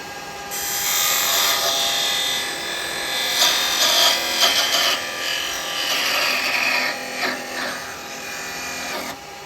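A wood lathe spins while a tool parts off a turned wooden piece, with a whining, rasping sound that rises and dips in bursts near the end.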